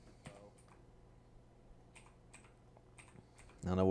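Quiet, sparse keyboard typing and clicks at a computer, close and soft with irregular keystrokes, before a voice starts talking loudly at the end.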